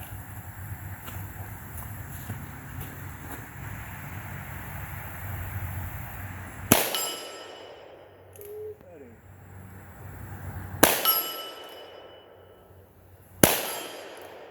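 Three loud, sharp gunshots from a Freedom Arms Model 83 .45 Colt revolver with a 10-inch barrel firing cast lead 200-grain semi-wadcutters, spaced several seconds apart at an outdoor range, each with a short ringing decay, after steady background noise.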